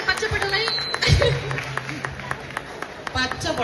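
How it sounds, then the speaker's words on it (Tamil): Audience clapping for prize winners at a Pongal celebration on stage in California, a burst of hand claps and crowd noise with a brief chattering murmur. "பரிசு வென்றவர்களுக்கு ஒரு பலத்த கைத்தட்டல் கொடுக்கலாமே ஆடியன்ஸ்"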